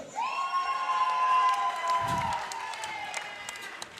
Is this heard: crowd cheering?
yes